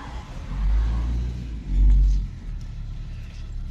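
A Renault Grand Scenic 3 with the 1.5 dCi diesel engine pulling away slowly, a low rumbling drone from inside the cabin that swells twice as it accelerates, with faint road noise.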